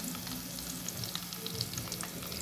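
Chicken pieces frying in hot oil give a steady, faint, close sizzle with scattered small crackles throughout, and no one speaks.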